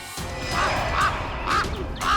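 Birds give four harsh, crow-like caws at a steady spaced rhythm, loud and close, over a low ambient background.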